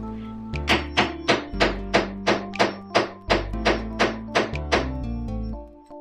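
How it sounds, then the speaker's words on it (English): A hammer or mallet strikes a grommet setter on fabric again and again, about a dozen sharp, evenly spaced thunks close up that ring briefly after each blow. "you bang on it, and now you have a grommet"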